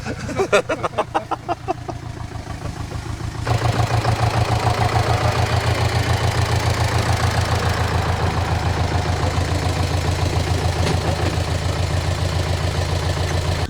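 A tractor engine chugs steadily at close range during an apricot harvest, rough rhythmic knocking that grows louder after a few seconds and keeps running throughout.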